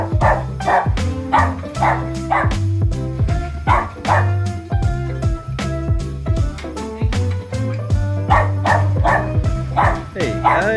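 An excited pack of dogs barks, yips and whimpers up close in a steady, overlapping chorus, with people talking underneath throughout.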